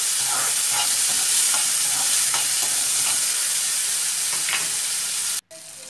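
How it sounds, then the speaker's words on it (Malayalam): Ginger and tomato sauté together in a pan with a loud, continuous sizzling hiss and scraping stir strokes up close, cutting out abruptly near the end. "ഇഞ്ചി, തക്കാളി എല്ലാം ഒരുമിച്ചിട്ടിട്ട് നന്നായിട്ടൊന്ന് വഴറ്റി വെക്കണം"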